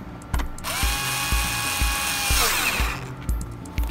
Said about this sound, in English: Now I'm using what equates to about a 12A driver for these.